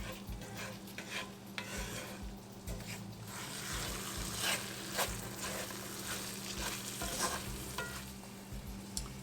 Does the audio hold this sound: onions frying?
yes